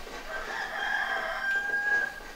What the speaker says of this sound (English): I thought at first that was a sound effects record that was just playing rooster sound